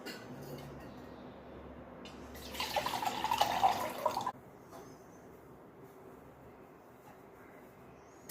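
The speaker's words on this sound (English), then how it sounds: "go grab one glass of lukewarm water" Tap water running into a glass for a drink of lukewarm water, a short burst of pouring in the middle of a quiet indoor stretch, fairly close and soft.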